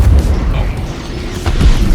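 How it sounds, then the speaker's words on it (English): Blade ship plasma cannons fire in the Star Citizen space game, a dense continuous roar of heavy booming blasts, loud and close, with a deep rumbling low end. "The two massive plasma cannons here."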